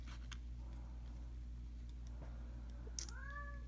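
A single short meow from a cat near the end, rising then falling in pitch, heard over a low steady hum and a few faint ticks, no voices.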